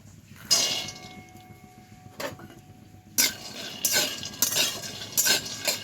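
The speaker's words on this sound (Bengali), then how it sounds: "এবার আমি শুকনো খোলায় কাঁচা বাদাম ভেজে নেব।" Raw peanuts dry-roast in a pan with no oil, stirred in bursts that make bright clinking and rattling scrapes separated by quieter gaps.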